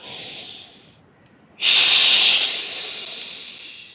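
A yoga breathing exercise done as a long hissing, shush-like exhale: a soft hiss, a short pause, then a louder, sustained shush that slowly fades out. The sound is close and clear, with no talk.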